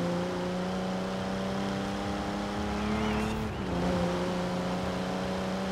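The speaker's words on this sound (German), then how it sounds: "Der klingt aber auch geil hier im Spiel. Jetzt gerade auch mit dem etwas aufgepimpten Motor." A tuned Japanese supercar engine in Forza Horizon 4 drones loudly and steadily at high revs, with a brief dip around a gear shift before it pulls strongly again.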